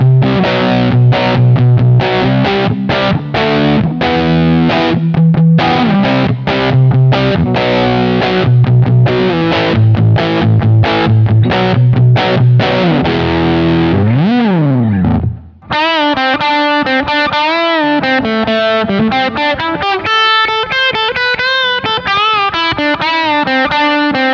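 An electric guitar on its bridge pickup runs through an RHPF Elec Mosphoros overdrive pedal set between drive and fuzz, playing loud, saturated riffs and chords, then a sliding bend and a shift to a sustained, buzzing lead line, with no talking.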